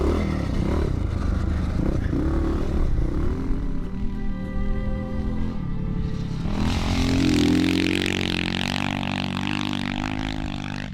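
Rare Avenger dirt bike engine revving and droning while riding laps, the pitch rising and falling with gear changes, loud and close with a rough mechanical rasp.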